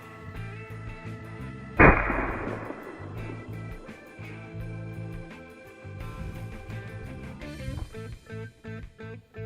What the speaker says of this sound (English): I'm going to shoot one of these copper 22s at a level